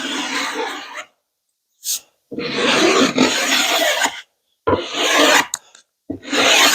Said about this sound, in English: Then I got my file. I'm using the fine end, and I'm just gonna take off some of the excess here.